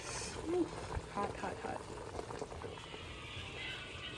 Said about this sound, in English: Soup is cooking. My soup is ready. My peanut soup.